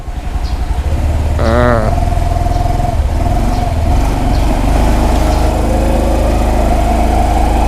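A Honda Dax125 motorcycle engine while riding, loud and close throughout, its steady running note shifting with the throttle, with a brief horn-like tonal sound early on and someone talking over it.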